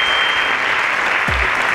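Audience applause after a correct answer at a school quiz competition, steady dense clapping filling the whole moment, loud and close.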